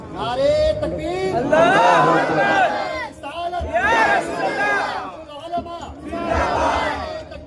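A crowd at a mosque gathering in Mumbai, held for a turban-tying ceremony for Quran memorizers, shouts the takbir slogan in unison. Three loud chanted bursts of many voices rise and fall in a steady call-and-response rhythm.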